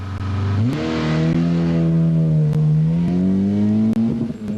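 A rally car revs hard and accelerates away at the start of the 1989 Rallye de Metz, a loud, close engine climbing steadily in pitch and holding a sustained roar.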